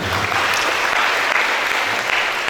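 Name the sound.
audience applause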